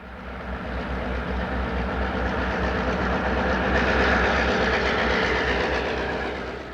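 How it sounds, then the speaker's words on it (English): A Burlington commuter train and the Super Chief rolling side by side into a Chicago station, a steady loud rumble of wheels and cars with soft clickety-clack, swelling slightly then easing. "A Burlington commuter train paces the Super Chief as they both move into the station."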